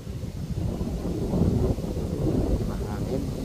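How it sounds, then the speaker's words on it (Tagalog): Wind buffets a microphone outdoors at night during a fireworks event in Taipei, a dense, low rumbling roar of gusts that swells and ebbs without pause, covering everything else. "Mahangin."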